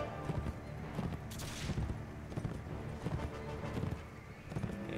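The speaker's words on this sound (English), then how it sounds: "my horse is just not really fast enough to couch" Hooves pound in an irregular galloping rhythm as a horse rides through a Mount & Blade: With Fire & Sword battle, mixed with scattered distant gunfire and crowd din, fairly quiet overall.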